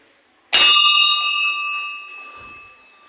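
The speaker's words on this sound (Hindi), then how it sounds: "अब इधर से ये घंटी," A temple bell at Janapav temple in Madhya Pradesh is struck once, a loud bright clang that rings on with a long, slowly fading metallic tone.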